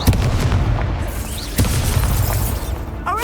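A fiery Incendio spell blast from Hogwarts Legacy, sharp booming bursts near the start, at mid-clip and near the end over a dense continuous rumble of game combat.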